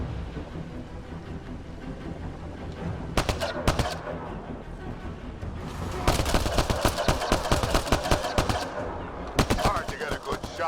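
Rapid bursts of automatic gunfire crackle in a sci-fi shooter game, Mass Effect Andromeda, coming in loud clustered volleys with brief pauses between them and a steady background hum underneath.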